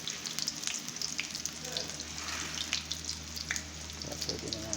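An eggplant omelette, tortang talong, fries in hot oil with a steady, dense sizzle and crackle, close and continuous throughout.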